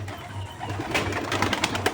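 Pigeons in a home loft, including crossbred young birds, coo in low, repeated throaty pulses close by, with light rustling and clicks mixed in and no talking.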